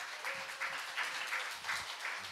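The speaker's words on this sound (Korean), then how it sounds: "뜨거운 박수 부탁드립니다." A small audience at a literary talk concert gives brief, soft applause to welcome a novelist, heard in a few light waves from a distance.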